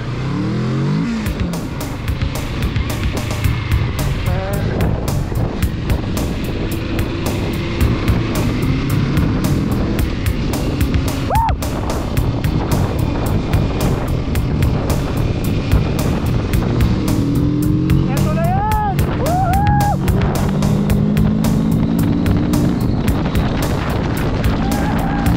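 A Kawasaki Z650 motorcycle ridden on a road during a test ride, its engine droning and revving loudly through heavy wind buffeting as it overtakes traffic.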